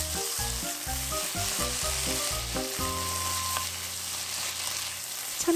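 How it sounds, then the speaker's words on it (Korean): Bean sprouts stir-fried with a little salt in a pan, sizzling loudly and steadily throughout, with utensil scrapes and clatters from the stirring. "콩나물 볶음은 하얗게, 소금 조금 넣고 골고루 볶아주세요"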